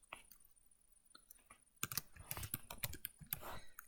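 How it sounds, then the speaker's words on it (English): Typing on a computer keyboard for a library catalog search, with sparse light clicks at first and then a quick, denser burst of keystrokes, close by and fairly quiet, with no talk. "Typing last name first."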